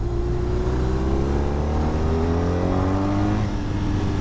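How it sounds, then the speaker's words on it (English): A BMW HP2 Sport boxer-twin motorcycle pulls hard as the throttle opens, its engine note climbing steadily in pitch under heavy wind rush, loud and close throughout. "it's got a lot of grunt straight away when you open the throttle"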